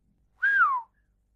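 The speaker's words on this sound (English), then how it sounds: "he whistled." A single short whistle, one clear rising-then-falling note lasting under half a second, close and isolated in silence.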